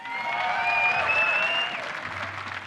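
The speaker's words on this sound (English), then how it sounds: "Can we have one more round of applause, please, guys?" Audience applause at an esports semi-final event, a dense sustained wash of clapping from a crowd, loud and close, fading slightly toward the end while a voice carries over it.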